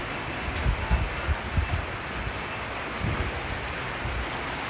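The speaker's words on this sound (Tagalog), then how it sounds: "Sobrang lakas po ng ulan." Heavy rain pours down in Taiwan during a week-long wet spell, a steady dense hiss with low rumbling thuds scattered through it and no voices.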